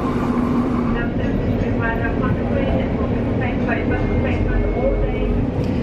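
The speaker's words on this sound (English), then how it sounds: "And just like that, we're on our way back on the train." A passenger train on a UK line approaching Cardiff Central Station gives a steady, loud rumble and rattle of the carriage throughout, with faint voices in the background.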